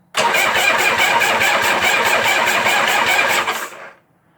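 An engine primed with three squirts of fuel, on an XL WNG 1000, is cranked for several seconds. The starter grinds in a fast, steady, loud rhythm close up, then cuts off without the engine firing.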